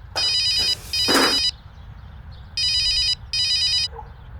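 A telephone rings in electronic bursts, two close together, then a pause and two more, loud and near against a low background hum, with a brief vocal sound between the first pair.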